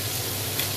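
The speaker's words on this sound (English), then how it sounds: "my meat, as you can see, you can probably hear, beginning to caramelize. You can hear the crispy little sounds" Lamb pieces sizzle and crackle steadily in a hot pan as they caramelize for an Irish stew, a close, even frying hiss with small crisp pops and no talking.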